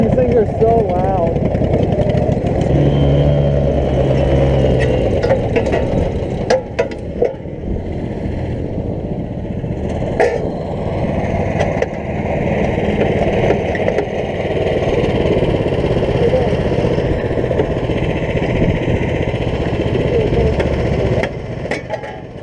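Off-road tractors at Walker Valley run loudly in a steady, continuous engine drone that lasts the whole stretch, with a person talking over the noise.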